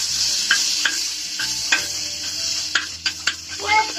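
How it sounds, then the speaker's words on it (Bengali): Butter sizzling in a pan as it finishes melting gives a bright continuous hiss, broken by a few sharp clinks and scrapes of a spoon against the pan, close and fairly loud, with no speech. "তো বাটারটা পুরোই গলে গেছে।"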